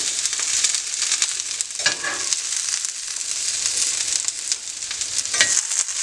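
Zucchini sizzles steadily in a hot skillet during a stir-fry, a dense continuous crackle with brief louder spits and stirring scrapes, close and alone without talk.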